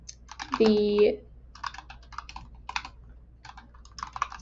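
Computer keyboard typing in short clicky bursts, fairly close and moderate, with a few spoken words briefly over the start.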